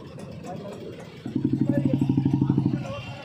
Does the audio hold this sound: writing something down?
no